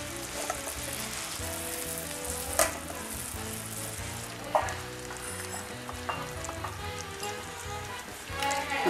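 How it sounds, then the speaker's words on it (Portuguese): Steady dense bubbling and sizzling from sugar syrup boiling in a pan for candy apples, continuous and close, with occasional clinks and a faint voice in the background. "Fervendo mais ou menos uns 20 minutos."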